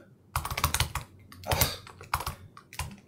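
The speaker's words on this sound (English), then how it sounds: "I just keep typing the same thing over." Quick bursts of typing on a computer keyboard, clustered clatters of keystrokes with short pauses between, close and clear with no talking.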